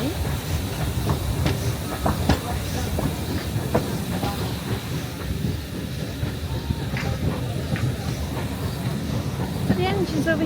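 Heritage train on Peak Rail in Derbyshire rolling along with steady rail rumble and rhythmic wheel clicks from inside a carriage, with hiss and people talking now and then over it.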